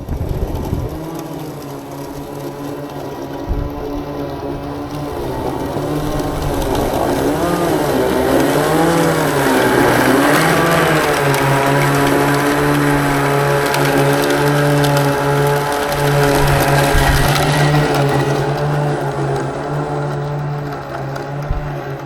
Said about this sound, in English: it will easily cut up slopes up to 45 degrees